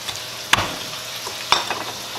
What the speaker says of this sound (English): While the steak is cooking there for about a minute